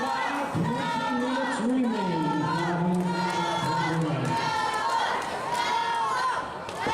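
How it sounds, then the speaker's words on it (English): Crowd at an AMW Summerbash 2017 wrestling event chanting a wrestler's name, a loud rhythmic chorus of many voices rising and falling, filling the hall with sustained shouting. "Crowd chanting Noble's name"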